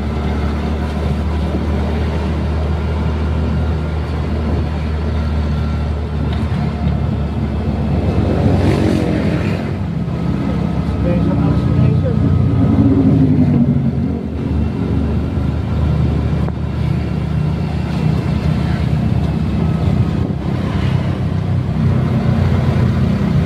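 Road traffic heading toward Los Baños, heard from inside a moving vehicle: a loud, continuous low engine and road rumble with passing vehicles swelling and fading, no voices over it.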